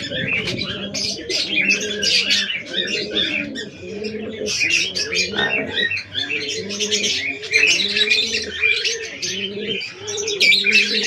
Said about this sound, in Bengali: এইটা আজকে পায়রাকে দেবো, জলটায় দিয়ে তারপরে পায়রাগুলোকে ছাড়বো